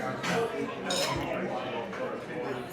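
A fork clinks and scrapes on a plate while someone eats a crumbly scone at afternoon tea in a hotel lounge, several light metallic taps close by, under soft room chatter.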